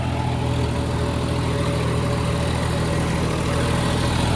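Steady low tractor engine idling, fitted with a 9-foot rotavator, with a constant droning hum and faint mechanical rattle, close and unchanging throughout.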